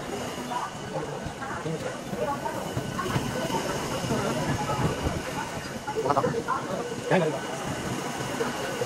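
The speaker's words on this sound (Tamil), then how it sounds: "ட்ரெயின் கிளம்பிடுச்சு." Train departing on the Palani temple hill route, a steady rumbling and hissing rail noise that swells slightly as it gets moving, with crowd voices mixed in throughout.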